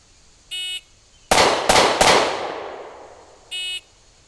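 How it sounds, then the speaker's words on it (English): Three handgun shots fired in quick succession outdoors on grass, loud sharp cracks about a third of a second apart with a trailing echo, bracketed by two short electronic beeps from a shot timer. "3 shots within a time limit of 3 seconds, point shooting without using the sights"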